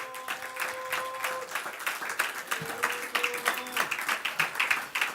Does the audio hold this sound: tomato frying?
no